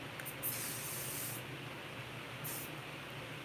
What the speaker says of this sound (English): And just spray a little bit.